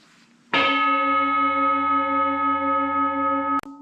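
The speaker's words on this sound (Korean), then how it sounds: "릴렉스하고 좀 들으시라고 종소리 하나를 들려드리도록 하겠습니다" A single struck bell for relaxation rings out loud and close, then sustains a steady, shimmering tone with rich overtones for about three seconds before it is abruptly cut off; no one speaks.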